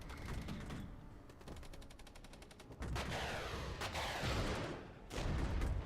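Battlefield fire from Regiments, a Cold War strategy game, rattles on: rapid machine-gun bursts and gunshots, then heavier RPG launches and blasts rumbling in waves, dense and fairly distant, with no talk.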